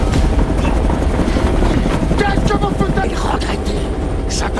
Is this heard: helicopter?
yes